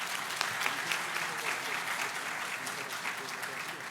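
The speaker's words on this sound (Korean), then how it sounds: "여러분 다시 한번 격려의 박수 부탁드리겠습니다" An audience at a banking job fair's public mock interview claps in encouragement, a moderately quiet, steady patter of many hands with a few sharper individual claps standing out.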